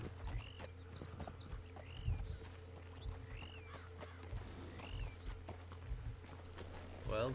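Faint, soft hoofbeats clip-clop at a steady trotting pace over a quiet low hum, with a few light chirps in the background, in Red Dead Online.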